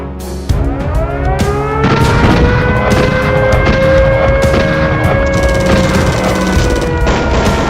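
A loud, continuous clatter of rapid machine-gun fire with booming bursts over a dense roar, sustained for several seconds like a battle scene opening an attack.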